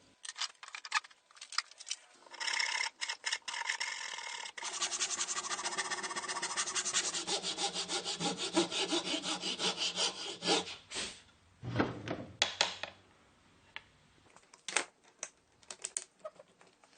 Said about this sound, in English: I have all those things, but I decided to do it with the coping saw.